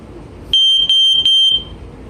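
A Sears 302.57475 smoke alarm with silencer sounds close and loud, a shrill piercing tone in three quick beeps followed by a longer held beep, over faint background hiss.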